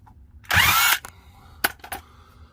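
A power tool loosens the bolts on a Jeep Wrangler TJ Dana 44 rear differential cover: one loud half-second whirring burst, then a few short clicks and rattles.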